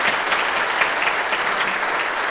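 A forum audience on workplace gender equality and pay equity claps loudly and evenly in a continuous burst with no speech on top.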